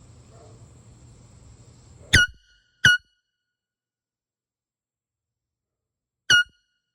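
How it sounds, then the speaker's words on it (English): Federal air horn sounded up close, three short, loud, harmonic-rich blasts, two in quick succession and a third after a pause, each cutting off into near silence. "testing the air horn from up close and distance away"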